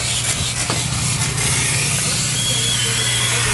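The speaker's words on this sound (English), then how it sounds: "Alright, so we're steaming all that out." Steam cleaner hissing steadily into a commercial refrigerator drain line, a constant loud rush of steam with a low hum underneath.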